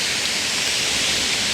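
The Curug Keret waterfall in Naringgul roars as a steady, dense hiss of falling water that fills the whole brief moment, with no voices over it.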